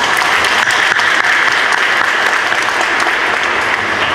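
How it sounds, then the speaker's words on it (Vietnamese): A church congregation at a Vietnamese parish feast Mass applauds to welcome priests and a deacon, loud continuous clapping from a large crowd filling the whole stretch. "Cộng đoàn chúng ta vỗ tràng pháo tay để chào đón."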